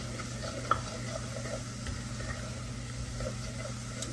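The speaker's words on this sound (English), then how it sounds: "I'm going to drop those fresh carrots in so I can give them a head start" Thin-cut fresh carrots dropped into a pot for turkey pot pie, giving a quiet steady sizzle with soft stirring and occasional light clinks, heard close with no talking.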